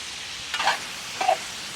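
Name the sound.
stirring shrimp frying in a pan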